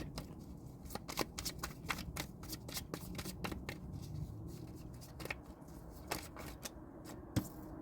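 Tarot cards are shuffled and drawn by hand, giving quiet, close riffling and sharp card snaps in an uneven rhythm with no talk.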